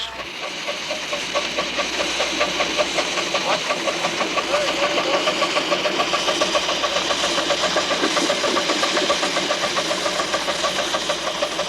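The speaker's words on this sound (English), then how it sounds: "narrow gauge locomotive built to run on 7 1/2-inch track" A narrow gauge miniature steam locomotive on 7.5-inch track, built as a copy of a Colorado and Southern engine, chuffs at a steady, close rhythm throughout, with a mechanical clatter and what may be a voice mixed in.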